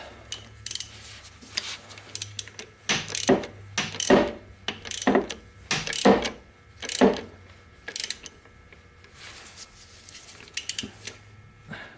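A rented pulley puller works on the pulley of a Ford Contour engine, giving repeated close ratcheting clicks and creaky metallic bursts in an uneven rhythm over a low steady hum.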